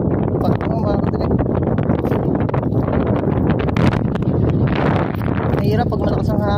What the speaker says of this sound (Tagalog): Mahirap pag malakas ang hangin.